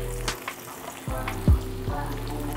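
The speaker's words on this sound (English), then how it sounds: "Let's go ahead and start frying our eggplants." Eggplant sizzling in hot oil, a steady crackling fry with a few louder pops and clatters of a utensil nearby.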